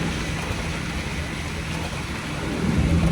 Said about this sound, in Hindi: तेज़ बारिश हो रही है